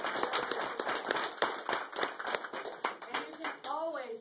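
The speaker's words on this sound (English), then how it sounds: "let's get her a round of applause." An audience claps for a guest speaker, the Lexington County Clerk, at a gathering. The close applause is made of distinct sharp claps in a busy rhythm, and a voice enters briefly at the end.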